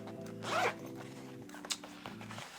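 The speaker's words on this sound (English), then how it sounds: "We have another zipper here." A zipper on a camera bag is pulled open in a few quick rasping strokes, close and fairly quiet, with a small clack partway through and no talking.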